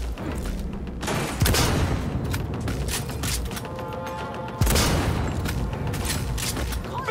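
Gunfire in Cyberpunk 2077: repeated loud bursts and booming shots with mechanical clatter, two especially heavy blasts punctuating a dense, continuous combat din.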